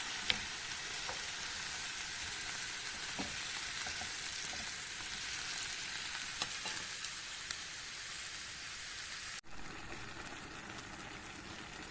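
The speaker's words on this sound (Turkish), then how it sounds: "Şöyle bir 5 dakika kadar birlikte kavuralım." Leeks sautéing in a pan give a steady, loud sizzle with scattered stirring clicks and scrapes for about nine seconds, then the frying drops to a softer hiss.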